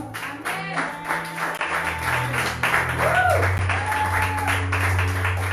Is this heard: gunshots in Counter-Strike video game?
no